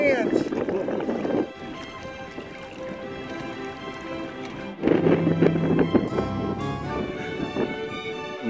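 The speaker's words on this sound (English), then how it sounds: "Wind and waves have really picked up now, 2 foot." Wind and waves of about two feet around kayaks crossing from the mainland to St. Simons Island, a steady rushing wash with heavier surges of water noise close to the microphone and people talking over it.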